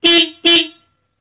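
Two short, loud beeps of a vehicle's factory-fitted horn close by, one right after the other, then silence.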